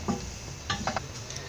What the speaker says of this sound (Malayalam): വറ്റൽമുളക് ഒരു 5 മല്ലി ഒരു 3 ടേബിൾ സ്പൂണും ഈ സമയത്ത് തന്നെ ഇട്ട് കൊടുത്ത് വറുത്തെടുക്കാം